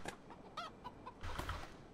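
Chicken clucking in the zombie survival game HumanitZ, several short clucks and squawks in quick succession at moderate volume, with game ambience and no talk.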